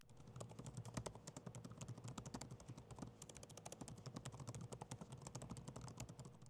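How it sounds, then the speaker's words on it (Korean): Quiet typing on an Acer Swift 14 AI laptop keyboard, a close, steady run of soft rapid key clicks at an even pace with only brief pauses, heard alone. "한번 타건감 들어볼까요?"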